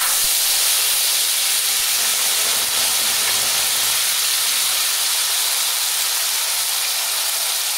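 Dried red chillies, whole cumin and tomato paste sizzle steadily in hot oil, a loud continuous hiss that fills the whole stretch without a break.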